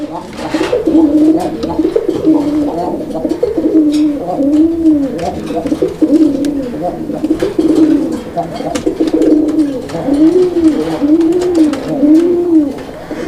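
A male pigeon coos in repeated rounded, rising-falling calls close by, each lasting about a second, with someone talking intermittently over and between the coos.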